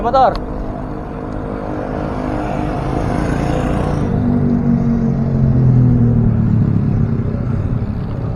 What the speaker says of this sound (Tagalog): Oy, may motor.